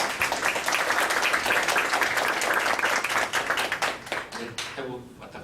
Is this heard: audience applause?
yes